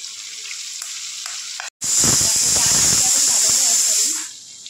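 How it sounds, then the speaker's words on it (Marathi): Curry leaves drop into hot oil for pav bhaji and burst into a loud, steady sizzle and hiss that holds for a couple of seconds before easing off, with a short quiet gap just before it starts. "आता आपण याच्यामध्ये कढीपत्ता टाकूया."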